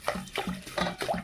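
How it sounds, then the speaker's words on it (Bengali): Rice is washed by hand in water, with soft rhythmic swishes and splashes repeating at close range and low volume. "এখন ধুয়ে নেবো চালটা ভালো করে"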